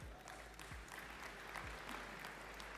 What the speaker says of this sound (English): you can clap, it's awesome.